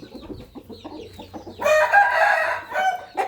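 A young Burmese rooster clucks in a run of short, close calls, then breaks into one loud, drawn-out crow.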